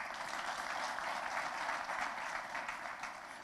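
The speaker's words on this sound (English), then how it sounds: "I want you to clap for President Museveni for one thing" A crowd at a political gathering claps for President Museveni in a sustained, even wash of applause at moderate distance, without a break and easing slightly at the end.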